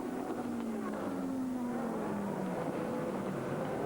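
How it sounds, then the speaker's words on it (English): A BMW race car engine at an ALMS race in 2000, a steady droning tone with slowly falling pitch from a car passing at a distance, heard at a moderate level. "Jörg Müller is pedaling the number 42 BMW into 3rd position right now"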